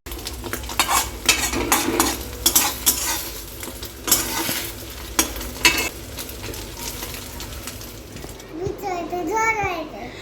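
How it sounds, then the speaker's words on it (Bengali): Eggs fry in a pan with a broad sizzle, punctuated by scraping and clinks of a utensil against cookware, and a voice speaks briefly near the end. "এবার তো ভেজে নিই"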